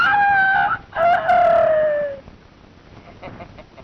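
A man imitates a rooster's cock-a-doodle-doo, giving two loud, close crowing phrases, the second drawn out and falling, then trailing off into quiet background.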